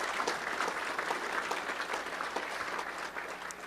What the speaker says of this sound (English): how about just a round of applause for the boards and others as well